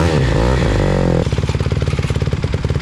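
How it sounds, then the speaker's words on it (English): A Honda CRF150R dirt bike engine runs close by during an oil change, first a loud revving whine, then settling into a rapid, choppy, pulsing idle. "we're going to start the bike and let it run for 3 minutes."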